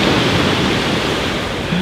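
Ocean surf at the water's edge, a dense steady wash of breaking waves heard up close and loud, with no voices.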